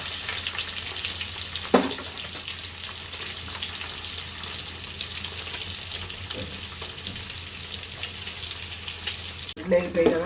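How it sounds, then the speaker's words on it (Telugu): Peeled boiled eggs frying in oil with turmeric and chili produce a continuous close sizzle, broken by an occasional knock and a louder clatter near the end. "ఇప్పుడు ఒలుసుకుని పెట్టుకున్న గుడ్లు వేస్తున్నాను."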